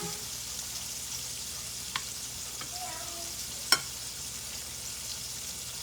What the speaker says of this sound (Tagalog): Tapos nilagay natin sa mantika.